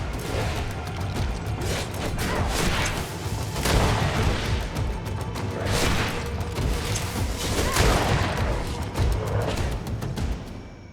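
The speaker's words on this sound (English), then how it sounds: "Ready to shoot! Fire!" Musket volley fired in the game GreedFall: heavy booming blasts and crashes that roll on continuously over a thick, loud battle din, with no clear talk.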